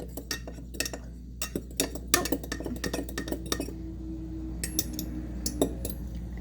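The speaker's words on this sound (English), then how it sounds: "we're just gonna use our fork and mix it up really quick" A fork clinks and scrapes inside a mug while dry chocolate mug cake ingredients are mixed quickly, with rapid metallic taps that fade into a few scattered knocks.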